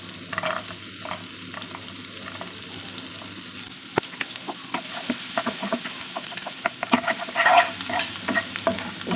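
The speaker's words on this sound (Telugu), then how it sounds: "బటర్ వేస్తున్నాను. బటర్ ఒక స్పూన్. దీంట్లో గార్లిక్ తెల్లుల్లిపాయలు వేస్తున్నా." Garlic fries in a spoonful of butter for butter garlic chicken, a soft steady sizzle broken by spoon clinks and scraping as it is stirred, with no one talking.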